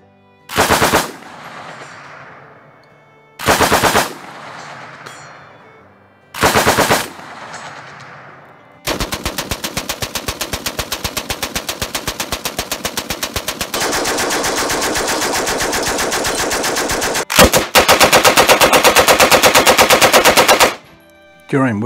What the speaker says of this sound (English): The Home Guard had a variety of machine guns to use here.